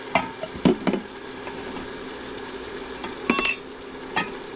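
Tomatoes go into a pot of black beans for a rice dish, bringing a few stirring scrapes and clinks over a steady low sizzle, with louder bursts near the start and middle.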